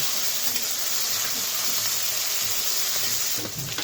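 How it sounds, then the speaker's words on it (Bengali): Small shrimp and onion fry in a pan with a steady, dense sizzle that holds evenly throughout, close and fairly loud, with a faint stirring scrape near the end. "তো ছোট চিংড়ি দিয়ে দিলাম, পেঁয়াজ দিয়ে ভালো করে কষে নেব।"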